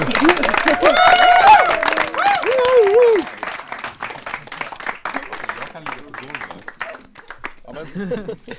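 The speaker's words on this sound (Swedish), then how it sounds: "Improvisationsteatern! Stor applåd!" Audience applause for an improv theatre group at a student TV show in Dalarna, loud and dense for about three seconds with a shouting voice over it, then thinning into scattered claps under talk.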